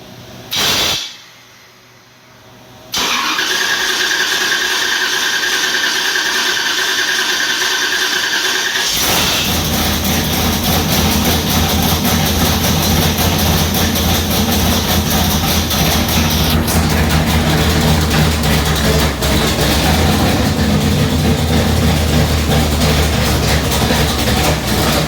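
A 451 big block Mopar stroker engine is fired up after a moment of quiet, then runs at a loud, steady, rough roar throughout, shifting tone partway as it settles into idle.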